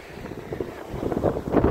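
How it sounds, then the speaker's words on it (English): Gusty wind buffets the microphone with a low, rushing rumble that swells and grows stronger toward the end. "It's very windy."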